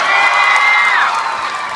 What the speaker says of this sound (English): So every time they say something, I want you guys to cheer